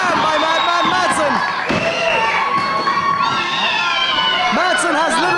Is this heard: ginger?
no